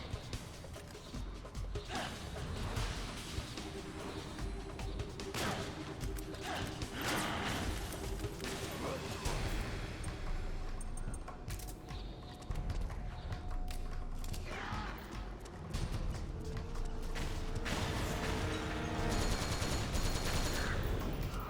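Muffled tranquilizer gun shots in the stealth game Metal Gear Solid 4: Guns of the Patriots, firing at irregular intervals over a low background of game ambience and music.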